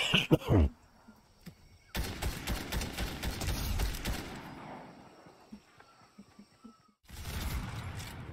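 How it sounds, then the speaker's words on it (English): Shotgun fire in the video game Fortnite, a sharp blast at the start followed by two dense bursts of rapid gunfire and clattering action, moderately loud with quieter gaps between them and no talk. "Shotgun's my favorite gun"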